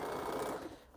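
Sewing machine stitching down the middle of a tote bag handle, a steady dense whir running loud for most of the second and then easing off as the stitching stops.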